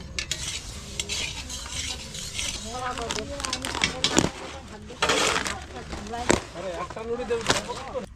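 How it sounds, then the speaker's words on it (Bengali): Moong dal dry-roasting in a pan while khichuri is cooked for a Saraswati Puja gathering, with steady scraping stirs and light sizzle, several sharper utensil knocks, and people talking nearby throughout. "এখানে মুগের ডালটা ভেজে নিচ্ছি"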